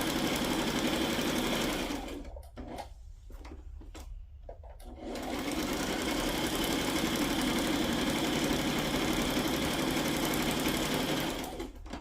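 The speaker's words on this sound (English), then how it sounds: "the reason I'm sewing around them separately is that I don't want the stitching, you know, in the middle of that" A sewing machine stitches steadily around paper pieces for a flip-flop journal, a close, constant mechanical whir that stops briefly in the middle with a few short bursts before running on again, no talk.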